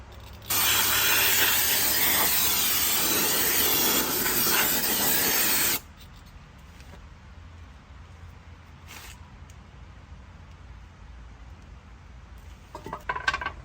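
A loud, steady spray of brake cleaner hisses onto a new rear brake rotor of a Toyota 4Runner for about five seconds, then cuts off, leaving quiet background with a few faint clicks.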